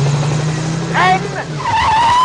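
A Renault 4 brakes hard in a car advert, its tires squealing and skidding in a rising screech over a steady engine drone, with a voice and music beneath.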